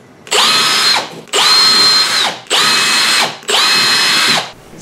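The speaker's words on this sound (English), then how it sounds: "Now I know where to drill my first four holes." A power drill bores holes into a drywall bathroom wall: four loud, close bursts of high motor whine, each lasting about a second, separated by short pauses.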